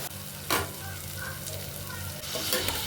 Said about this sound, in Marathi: आलं लसणाची पेस्ट घालायची आहे. सर्व भाजून घ्यायचं आहे.